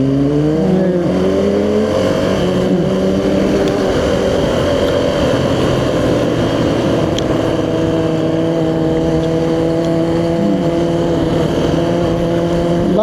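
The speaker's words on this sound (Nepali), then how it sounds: "म तपाईँलाई पनि सुनाउँछु राजनको बाइकको साउन्ड" A Kawasaki Ninja 250 ZX-R motorcycle engine revs loudly and close by, its pitch climbing and falling through repeated throttle blips before settling into a sustained high drone.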